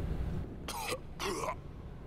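A character in the Yes Your Grace video game coughs twice in close succession. The two harsh, raspy bursts stand alone over a faint low background hum.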